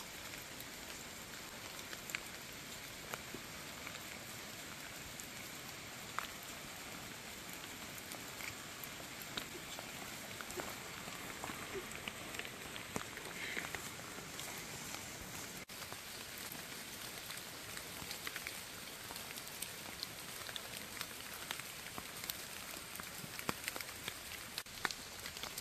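Rain falls steadily on forest foliage and the ground on a hiking trail up Gunung Chamah, a continuous soft patter with occasional heavier drips, with no voices, for nearly half a minute.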